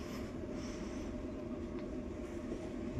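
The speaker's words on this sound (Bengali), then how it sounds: "তো আমাদের ট্রেন ছেড়ে দিয়েছে।" A sleeper class train in China pulling away, a steady low rumble of rolling wheels and carriage noise filling the interior, constant and close throughout.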